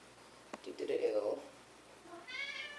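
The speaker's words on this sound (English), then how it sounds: "that's my cat still meowing at the door." A cat meows at a door a few times from a short distance, the calls rising and falling, with a faint click before them and quiet room noise around.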